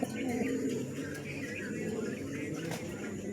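A pair of young dragon pigeons for sale coo softly, low burbling calls close by with faint chirps over a quiet background.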